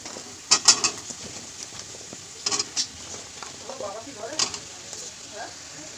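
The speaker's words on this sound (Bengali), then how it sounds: "সিম আলু বসিয়ে দিয়েছি, মশলা টশলা সব একবারে কষিয়ে বসিয়ে দিয়েছি।" Potatoes and flat beans stir-frying with spices in a pan, a steady sizzle punctuated by irregular scraping stirs and sharp clicks of a spatula, close and moderately loud.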